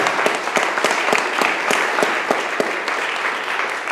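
A church congregation claps steadily during a worship service, a dense, even applause with sharp individual claps standing out, continuous and fairly close throughout.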